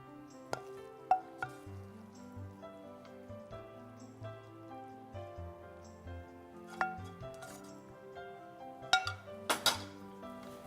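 Papad curry is plated onto a dish with soft clinks of a serving spoon against the plate and a few sharper taps, spaced irregularly over a quiet background.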